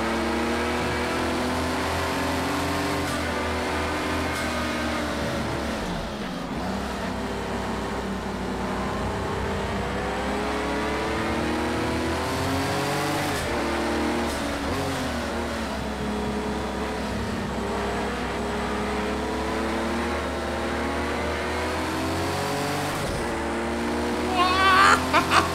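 A Porsche 935/80 turbo race car in Project CARS 2 at Donington, its engine droning loud and continuous as it revs through the gears with rising and falling pitch, cutting briefly at shifts, with no talking.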